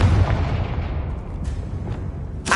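The Confringo blasting spell explodes in Hogwarts Legacy, a loud deep boom with a rumbling tail that fills the moment, followed by faint crackling bursts.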